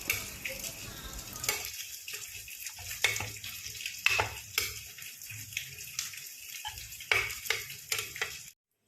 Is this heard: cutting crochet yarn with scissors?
no